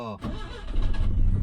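Car engine firing up, a short crank followed by the engine catching into a rough, rising rumble, close and moderately loud over a brief moment.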